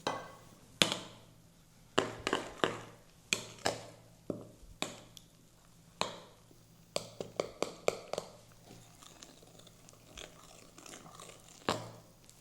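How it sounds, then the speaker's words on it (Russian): A spoon mixes and kneads dough for English muffins in a bowl, giving irregular sharp taps and scraping knocks that come in uneven bursts, fairly close and quiet, with no talking. "Сначала ложкой будем месить"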